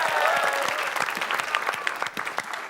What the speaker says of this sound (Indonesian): Ya udah kita berikan tepuk tangan.